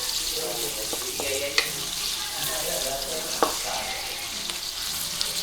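Onions fry in a pan with a steady close sizzle, broken by a few sharp clicks and scrapes of stirring, moderately loud, with no talking.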